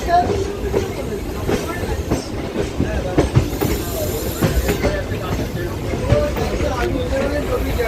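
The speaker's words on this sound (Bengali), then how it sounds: "এই মুহূর্তে আমাদের সামনে দিয়ে আছে ধনধান্য এক্সপ্রেস" Dhanadhanya Express from Kolkata to Lalgola running past close by, a continuous heavy rumble with repeated wheel clacks and occasional faint squeals, loud and unbroken throughout.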